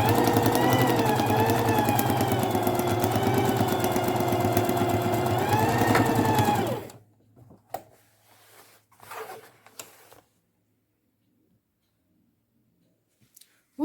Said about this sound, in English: you now sew the darts